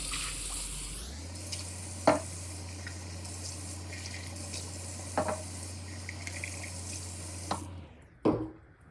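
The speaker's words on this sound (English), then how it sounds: "I'm gonna rinse these out a little bit" Water filter cartridges from an APEC ROES-50 reverse osmosis system rinsed under a running tap: a steady close hiss of flowing water with a few clunks of handling, ending as the tap shuts off.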